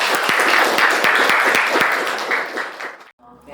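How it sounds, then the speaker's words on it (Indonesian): A classroom full of students claps together in a dense, lively round of applause that fades out after about three seconds, followed by a brief quiet moment. "kita beri tepuk tangan untuk kita semua."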